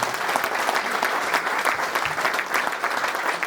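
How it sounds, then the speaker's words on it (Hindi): An audience at a poetry recital applauds the poets, steady clapping from a crowd held at an even level throughout, without voices over it. "एक बार ताली बजा दीजिए इनके लिए।"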